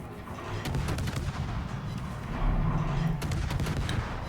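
Naval artillery fire in World of Warships, with battleships including a Musashi and a Des Moines exchanging sustained salvos: repeated deep booming gun blasts and crackling impacts, loud and rolling, with no voices.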